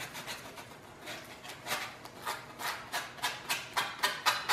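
Hand sanding fuzz off epoxy-coated wooden kayak pieces, a close, dry rasping in repeated back-and-forth strokes that grow louder and quicker toward the end, with no talking.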